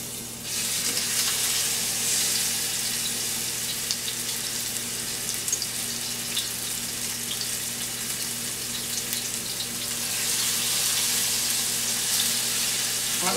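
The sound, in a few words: food frying in olive oil in a skillet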